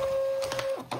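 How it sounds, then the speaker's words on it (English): Label printer calibrating with a 4x6 label, a steady mechanical whine followed by a few short feed clicks and whirs, close by. "you can easily calibrate this printer by putting in the label right here."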